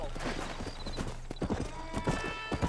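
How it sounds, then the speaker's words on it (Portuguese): Horse hooves clip-clop in the video game Red Dead Redemption, a steady walking rhythm of muffled hoof strikes under game music and ambience, with a faint whinny. "Vá de cavalo até o palanque."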